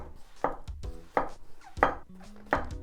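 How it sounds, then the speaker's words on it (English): A knife cuts king trumpet mushrooms into thin slices on a board, giving four distinct close chopping knocks at a steady, unhurried pace with quiet pauses between them. "the king trumpet mushroom, you can separate them also with your fingers, but I like to kind of make in thin slices like this"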